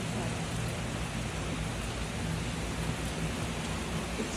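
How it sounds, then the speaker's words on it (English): Heavy, fast rain pours down steadily in Ottawa, Canada, a dense, even hiss that fills the whole span with no breaks and no voices. "The rain is so fast."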